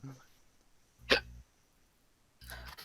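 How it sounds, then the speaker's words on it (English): A single sharp hiccup bursts out around the middle, brief and fairly close, with faint low murmuring before and after during a session of playing a video game. "Oh no, I hear a hiccup."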